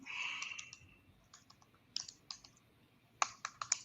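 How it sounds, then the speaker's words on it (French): Quiet tapping of a computer keyboard as a password is entered, a short run of soft keystrokes, then pauses and a few sharper isolated key presses near the end. "ils vont me demander mon mot de passe, bien sûr. Il faut que je le tape bien là"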